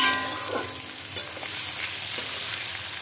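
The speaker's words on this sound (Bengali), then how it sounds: "এবার খুন্তির সাহায্যে আমি এটাকে মিশিয়ে নিয়ে নেড়ে নেব।" Garlic and boiled potatoes fry in a pan while a spatula stirs them, a close, steady sizzle with a few brief scraping strokes, no voices.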